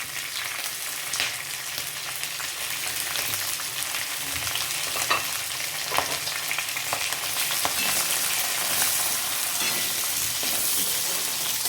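Small onions and green chillies sautéing in a pan, giving a steady, dense sizzle with occasional stirring scrapes. The sound is close and continuous, with no voices.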